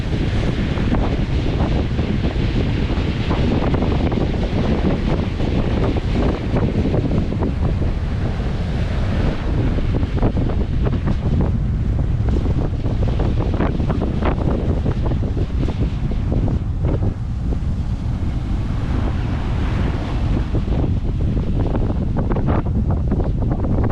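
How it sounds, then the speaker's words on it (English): Strong wind gusting straight down a canal, a loud, constant roar buffeting the microphone with a rushing, surf-like wash and no let-up for the whole stretch. "it's coming straight down the canal"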